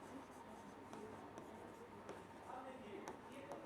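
Chalk or marker writing on a board in a physics class, soft scratchy strokes and light taps in a roomy, quiet space with faint background murmur.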